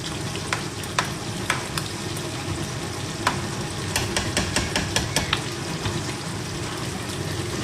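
Food frying and sizzling in a pot on a stove, a steady crackling hiss broken by frequent sharp pops and spatters, close and fairly loud, with no voices.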